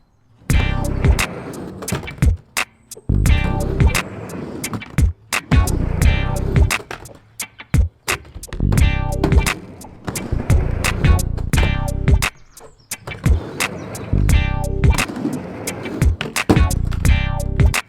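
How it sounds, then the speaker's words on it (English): A skateboard on a mini ramp rolls back and forth in loud recurring runs of wheel rumble, punctuated by sharp tail pops and clacking bonks of the wheels on the metal coping, close and repeating throughout. "try and pop the board as horizontal as I can, so when the wheels bonk, I come back down on the coping"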